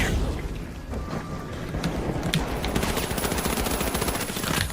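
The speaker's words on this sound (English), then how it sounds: "Frag grenade set." Video-game combat with a frag grenade explosion and rapid gunfire, dense bursts of shots and booms packed together at full loudness throughout.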